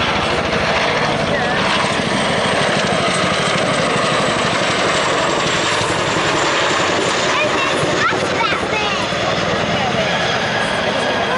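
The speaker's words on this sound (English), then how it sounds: "As the aircraft performs its 360" An aircraft flies a display at the Bournemouth Air Festival, producing a loud, continuous, droning engine roar that holds steady throughout.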